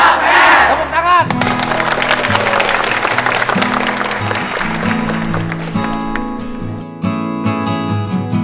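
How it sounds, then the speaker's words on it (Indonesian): A crowd of students at a national-defence school event breaks into loud applause and cheering after a short voice, the clapping dense and sustained, settling into rhythmic unison claps near the end. "Tepuk tangan."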